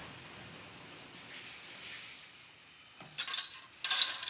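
Hot jackfruit chips tipped into a metal vessel, two bright clattering bursts of crisp pieces striking metal near the end, following a quiet stretch of faint background hiss.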